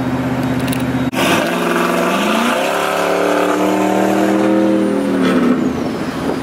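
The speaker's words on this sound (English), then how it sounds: "You guys don't understand how hyped I am off of this exhaust setup." A truck exhaust fitted with Carven mufflers rumbles loudly and close, revving up in a rising, raspy drone that echoes off nearby walls before settling back down.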